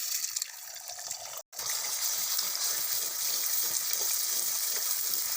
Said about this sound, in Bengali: একটা ডিম নিয়েছি, ডিমটা ভেঙে তেলে দিয়ে দেবো।